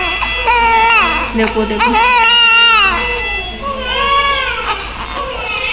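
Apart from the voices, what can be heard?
baby crying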